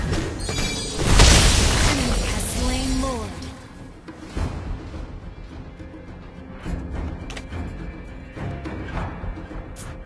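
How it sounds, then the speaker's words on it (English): A turret being destroyed in the Mobile Legends mobile game, a heavy booming blast with a sweeping whoosh and crumbling debris, loud at first and then fading under game effects and a voice. "Our turret has been destroyed."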